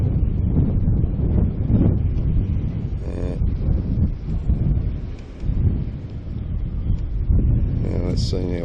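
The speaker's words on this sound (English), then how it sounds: "there's some severe wind there" Severe wind roars and buffets the microphone continuously in deep, rumbling gusts during an Inspire 2 drone flight chasing a cruise ship, with a muffled voice faintly under the noise.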